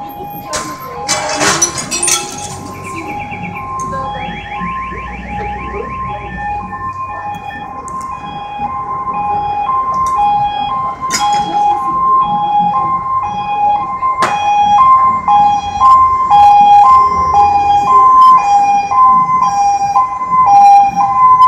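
Emergency vehicle sirens wail and yelp on the way to a large building fire in Pazardzhik, Bulgaria, rising and falling continuously and growing louder as they approach, with people talking nearby.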